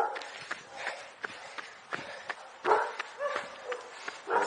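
Several dogs bark repeatedly at runners passing during a training run outdoors, a rapid string of sharp barks and yips of varying loudness, some close, continuing throughout with no talking.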